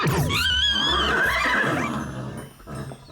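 A horse neighing loudly and close, a long quavering whinny that rises and falls before trailing off into quieter snorts.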